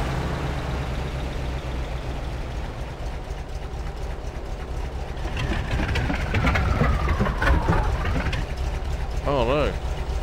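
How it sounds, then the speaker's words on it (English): A truck engine starts and idles in the video game MudRunner, a loud, continuous low rumble that swells midway and carries sweeping mechanical tones. "Start engine."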